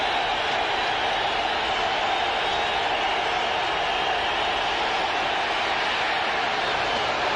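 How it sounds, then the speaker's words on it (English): Dense, steady roar of a football stadium crowd at the 1992 Bills vs 49ers game, loud and continuous throughout as fans cheer on third and ten to help the defense, with broadcast talk faintly mixed in. "3rd and 10, and the crowd trying to help the defense"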